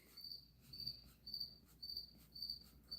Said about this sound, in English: You like the cricket noise?